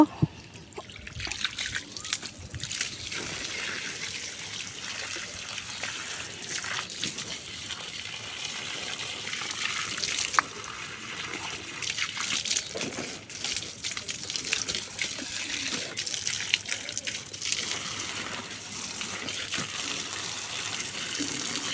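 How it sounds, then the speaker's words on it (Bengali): Water trickles and splashes steadily onto potted plants in a rooftop garden, a continuous close pouring with small irregular spatters and no talking. "এখন গাছে একটু পানি দিব"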